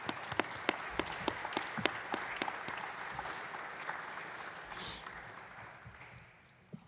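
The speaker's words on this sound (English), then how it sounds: "So if we can give her one more round of applause before she gets to speak." Audience applause at a press conference for a Creighton volleyball coach, dense steady clapping with a few sharper individual claps near the start, fading out toward the end.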